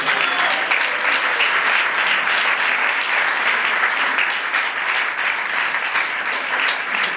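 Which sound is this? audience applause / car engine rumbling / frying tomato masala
audience applause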